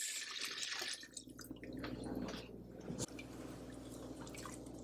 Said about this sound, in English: I'm going to go ahead and add some water to this.